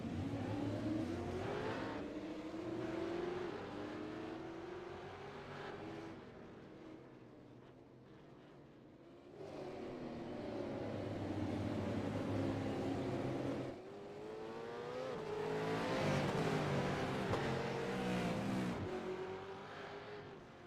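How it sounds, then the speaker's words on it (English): Race cars in the iRacing sim launch off the start line at Circuit Gilles Villeneuve, a pack of engines revving and rising in pitch together, fading briefly and then surging again, loud and continuous with no talk. "waiting for the lights to shut off so these race cars can go"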